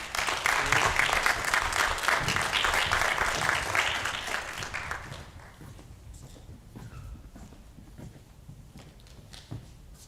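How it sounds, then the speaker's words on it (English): An audience at a Pitch Fest 2021 event gives a round of applause, a bright burst of clapping for about five seconds that then dies away into quieter room noise with a few scattered claps. "Give them a round of applause, please."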